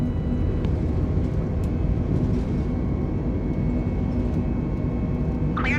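Steady, loud broadband roar of a Jetstar airliner accelerating down the runway on takeoff from Hobart, a continuous engine rumble with a faint whine throughout and no speech.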